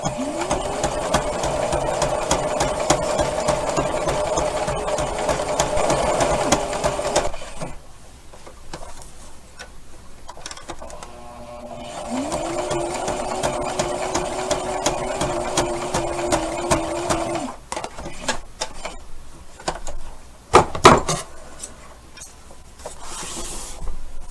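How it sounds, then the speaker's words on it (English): A sewing machine stitches around the edge of a fabric card wallet in two long, steady whirring runs, separated by a quieter pause with scattered clicks and handling noises. No voices are heard. "let's go ahead and sew around it, and then we'll press it"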